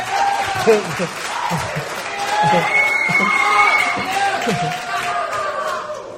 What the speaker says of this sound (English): can you give your gentlemen here a round of applause and show them some love here today?